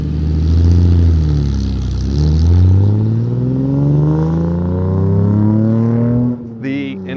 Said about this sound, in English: this is my 1955 300 SL Gullwing